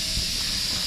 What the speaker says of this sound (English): You can probably hear the leak off now. That's draining the extra air off.